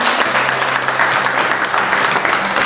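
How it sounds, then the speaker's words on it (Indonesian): Classroom applause for a student who has just summed up the day's lesson, a dense, steady patter of many small hands clapping together close by for the whole stretch. "Kita beri tepuk tangan sekali lagi."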